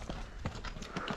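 A horse's hooves clip-clop on a muddy, slippery mountain road near Shimla, with several quick, soft, irregular steps close by.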